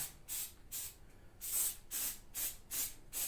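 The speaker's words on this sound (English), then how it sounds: "So we'll just give it a spray of activator." Short bursts of glue activator spray hiss in a steady rhythm, about seven quick pumps close to the microphone with brief quiet gaps between.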